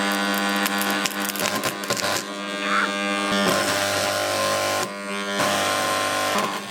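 A homemade spot welder fusing screws between scrap metal plates gives a loud, steady electrical buzz with harmonic hum, broken by brief crackling pulses and short dips, running continuously for several seconds.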